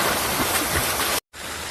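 Finolex irrigation sprinklers fed by canal water spray hard across a farm field. The hiss and rush are loud, continuous and close, with one abrupt brief cut near the end.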